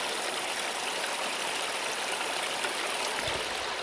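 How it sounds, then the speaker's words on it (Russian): Steady rushing water pours and gurgles continuously where two forest streams join in the Siberian taiga, fairly close, with no voices. "Вот два ручья объединяются."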